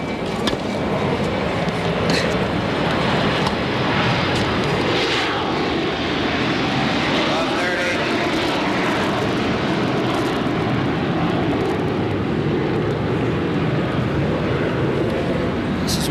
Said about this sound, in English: Plane flew over, the first one of the day.